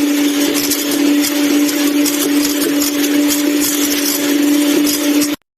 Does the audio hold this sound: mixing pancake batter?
yes